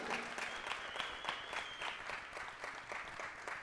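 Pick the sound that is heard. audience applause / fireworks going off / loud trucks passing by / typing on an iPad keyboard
audience applause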